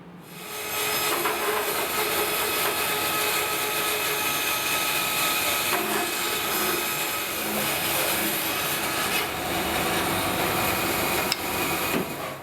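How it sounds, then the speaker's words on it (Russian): A Felder FB 710 band saw rips thin 5–6 mm strips of wood, a loud, steady whining and rasping cut that runs continuously for about twelve seconds with no voices. "сейчас я попытаюсь отпилить, ну скажем, там 5-6 миллиметровые полоски на этой пиле и на джете"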